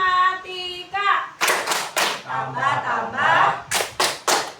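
A class of children chants the 'tepuk matematika' clapping rhyme, voices singing together in rhythm and broken by several sharp, loud claps near the end.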